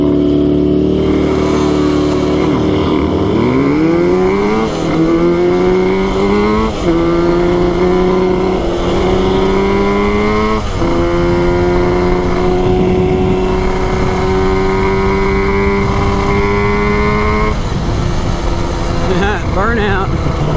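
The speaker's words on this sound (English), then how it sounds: "Burnout." A Yamaha RD350 two-stroke motorcycle, café racer style, does a burnout, its engine revving loud and close in sustained rising and falling sweeps for about seventeen seconds before it cuts off.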